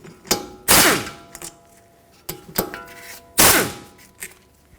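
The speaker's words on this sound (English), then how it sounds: "With a 13mm socket from the back of the caliper, remove the 2 bolts that hold it onto the caliper bracket." Ratchet on a 13mm socket working loose the caliper bolts on a 2012-2019 Fiat 500 rear brake: a few loud, sharp clatters and ratcheting bursts with metallic clinks between, close up in a quiet garage.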